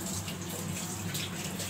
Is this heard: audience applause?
no